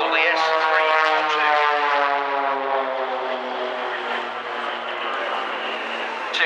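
An XtremeAir S300 aerobatic aeroplane flies close by, its loud, steady propeller-engine roar rising and falling slightly in pitch as it passes, with no talk over it.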